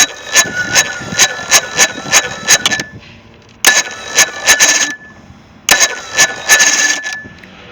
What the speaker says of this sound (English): if you watch the Bendix when you try to start it with this brand new Amazon starter, it turns over